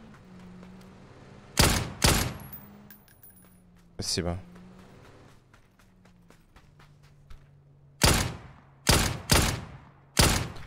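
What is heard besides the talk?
Dragunov rifle gunfire in video game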